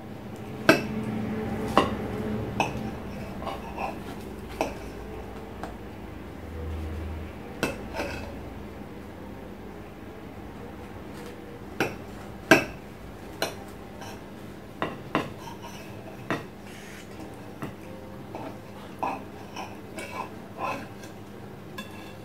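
Knife cutting through apples for a clafoutis, with repeated sharp clicks and taps of the blade and cutlery against a dish or board, spaced irregularly, fairly close and moderate in level, with no talking.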